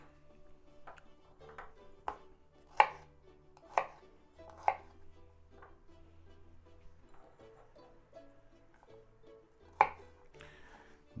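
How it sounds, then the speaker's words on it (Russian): A knife chopping garlic on a board in a kitchen while making Georgian eggplant rolls with walnuts: a handful of sharp, irregular knocks, a few of them crisp and loud, over a quiet background. "чесночку надо было предварительно порубить"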